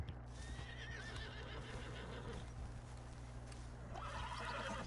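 A horse neighs and whinnies in Red Dead Redemption 2, with steady clip-clop of hooves beneath a constant game background hum.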